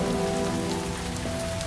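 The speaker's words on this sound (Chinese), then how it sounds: "下雨了，我们赶紧回去吧，别着凉了。" Steady rain falls continuously on a surface, a dense even hiss with a low tonal hum beneath it and no voices.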